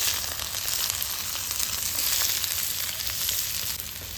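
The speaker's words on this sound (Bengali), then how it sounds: "পেঁয়াজটা একটু নাড়াচাড়া করে ভেজে নেব।" Continuous bright sizzling and crackling of chopped onions frying in hot oil, steady and close, with no voices.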